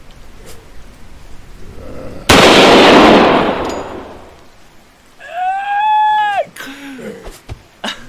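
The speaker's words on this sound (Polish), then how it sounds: "Uwaga! Odpalamy armatę." A sudden loud cannon-like blast in the video game Lure: Free, with a long roaring burst, followed by a rising whistling tone and scattered crackles and thumps.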